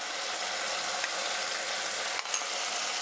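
Spice paste mixed with cashew and melon seed paste frying in a pan for a Bengali-style chal kumror dalna, giving a steady, dense hiss close by with a brief stir near the end.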